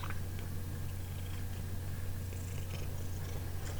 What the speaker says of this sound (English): This is the bad kitty right here